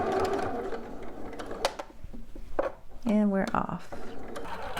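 A sewing machine back stitching a seam on a pair of shorts runs in short bursts between stretches of someone talking, with a clear voice passage in the middle.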